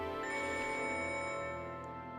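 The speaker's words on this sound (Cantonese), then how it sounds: "我聽電話先。" Telephone ringing with a steady electronic tone that holds through the clip, moderately close and alone, fading slightly toward the end.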